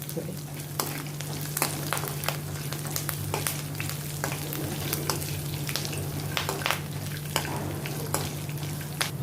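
Curry leaves roast in hot oil alongside almonds and peanuts, giving a steady close sizzle and crackle with frequent sharp pops and stirring scrapes throughout.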